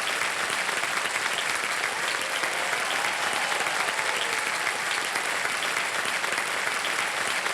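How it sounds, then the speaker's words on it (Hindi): A studio audience on the Hindi quiz show Kaun Banega Crorepati applauds a contestant, a dense, continuous, even roar of clapping that holds steady and loud throughout. "तालियां बज जाए इनके लिए।"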